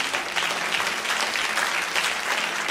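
A church audience claps together, a dense, steady wash of applause lasting the whole moment with no speech over it.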